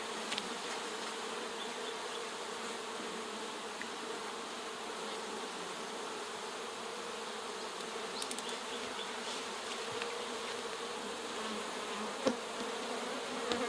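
A dense, steady buzzing of many bees around a newly installed nuc hive fills the air, continuous and close, with a few brief clicks and knocks near the end.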